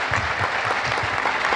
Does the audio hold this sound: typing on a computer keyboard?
no